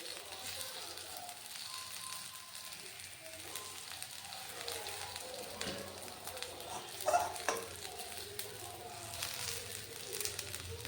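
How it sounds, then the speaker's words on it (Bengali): Papaya fritters fry in mustard oil as a low, continuous crackling sizzle, with occasional soft spatula scrapes and a brief louder clatter midway, while a voice speaks faintly. "এবার এগুলো লাল লাল করে ভেজে নেব।"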